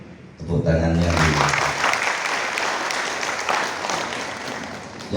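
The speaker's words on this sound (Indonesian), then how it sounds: "Tepuk tangannya" A brief spoken introduction at an education workshop in Tabanan gives way to a burst of full audience applause, steady and fairly close, holding for several seconds.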